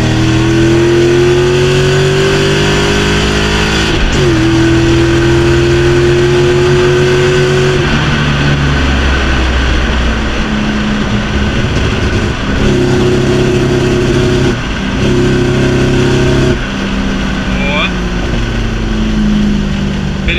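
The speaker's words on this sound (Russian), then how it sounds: "Итак, вторая передача, педаль в полу." BMW E36 fitted with an M60B40 V8 accelerating hard at full throttle in second gear, a loud close engine note rising in pitch and dropping back repeatedly, as if it cannot hold revs, heard alone without speech.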